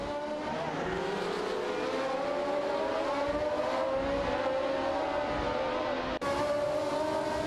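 A Ferrari 312T and a Hill GH1 race in a video game, their engines a loud, sustained high whine that climbs steadily in pitch as they accelerate, briefly cutting out before rising again, with no talking.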